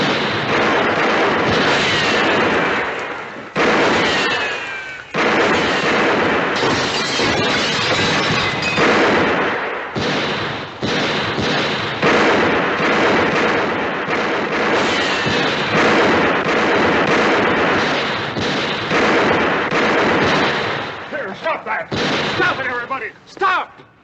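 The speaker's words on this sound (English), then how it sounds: "Let's put a few shots over their heads." Gunshots fired over the heads of approaching riders in a western, loud cracks and booming bursts in quick clusters over noisy commotion, with brief gaps, continuing for a long stretch.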